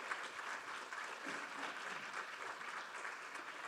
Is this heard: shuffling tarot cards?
no